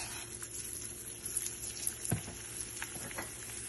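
Rice and quinoa fry in oil in a pan, giving a faint, steady sizzle with light crackling pops and an occasional soft stirring scrape, heard quietly and close with no talking.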